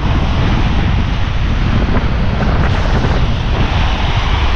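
Strong typhoon wind roars by the sea, a loud unbroken rush buffeting the microphone while waves churn beneath.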